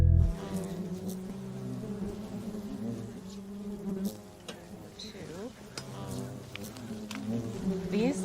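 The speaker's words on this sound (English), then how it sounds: "These are all worker bees, which are female." Honey bees at a hive give a steady, dense buzz, close and fairly loud, with individual bees droning past and shifting in pitch, and a voice speaking faintly underneath.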